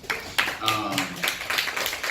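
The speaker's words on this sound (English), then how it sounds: "Misha gets all those claps" A brief patter of audience clapping for Misha at a charity meet-and-greet, a few scattered claps close by rather than full applause, with voices murmuring underneath.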